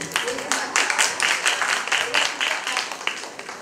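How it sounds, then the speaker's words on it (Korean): Audience applause during a 2017 show concert in front of Choweol Station, a crowd clapping densely and steadily for several seconds, loud and close, with a little talk mixed in. "박수 한번 쳐주시고"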